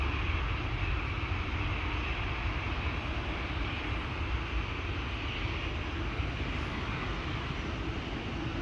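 Lufthansa airliner in Star Alliance livery departing Amsterdam Schiphol for Frankfurt, a steady broadband jet roar heard from a distance, holding even throughout with no talk.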